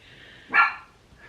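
A single sharp bark from a fluffy pet dog rings out close and loud, then quiet returns.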